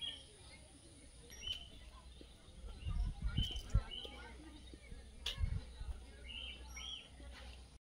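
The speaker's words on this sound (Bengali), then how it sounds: "তোমরা কি পাখির কিচিরমিচিরগুলো শুনতে পেলে?" Birds chirp near the tribal museum cottages at a nature tourism centre in Jhargram, a few faint, scattered high calls over a quiet outdoor background with low rumbling.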